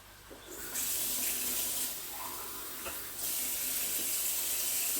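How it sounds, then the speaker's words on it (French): Water runs steadily from a tap into a pot of veal blanquette, a continuous broadband rush that starts softly and grows louder, with a brief dip midway before flowing strongly again. "Je vais rajouter beaucoup d'eau avec tout le reste et poursuivre la cuisson."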